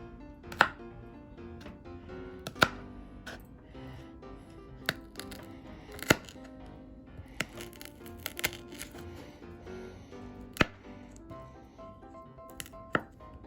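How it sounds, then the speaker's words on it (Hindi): Green chilies being chopped with a knife on a board for pakora, a slow, irregular series of sharp taps and clicks, close and fairly quiet, with no talking. "अब मैं मिर्च को काट लूंगी।"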